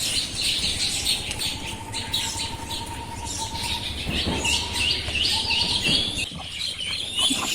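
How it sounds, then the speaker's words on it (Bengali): Pekin and local village ducklings give a steady run of high, thin peeping chirps, close by and continuous over a low outdoor background. "এগুলো হচ্ছে আমার মামির হাঁসের বাচ্চা এগুলা কি জানি যে বেজিং হাঁস না তিনটা হচ্ছে বেজিং হাঁসের বাচ্চা আর দুইটা দেশি"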